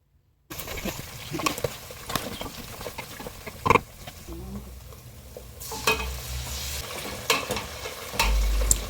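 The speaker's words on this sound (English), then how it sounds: "And right now I'm adding my fish. I'll allow it to fry for some time." Fish frying in a pan of oil for Ghanaian palava sauce, a soft sizzle broken by scraping stirs and a few sharp clinks, close up with no talking.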